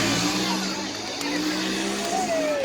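Off-road vehicles race at an outdoor monster truck show in Donnellson, Iowa, their engines droning and revving steadily at a distance, with crowd and announcer noise underneath.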